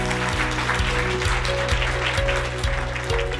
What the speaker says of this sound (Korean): 그럼 저희 큰 박수로 우리 민경덕 교수님을 모시도록 하겠습니다.